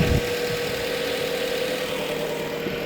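Steady, even hum of a Jeep Compass Limited 2.4 engine idling close up, constant throughout with a slight low rumble and no other sounds.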